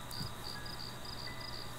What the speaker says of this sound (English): it's just the sound of crickets and we don't need to hear it